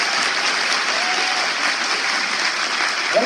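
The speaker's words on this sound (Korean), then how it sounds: "이정도의 박수 한번 주시죠." An audience at a political party event for new members claps in a sustained, even burst of applause, dense and loud from start to finish with no talk over it.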